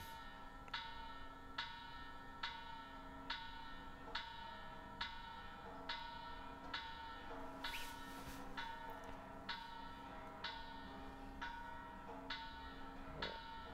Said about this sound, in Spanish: Dicen que esta campana es la original que tocó Miguel Hidalgo, mira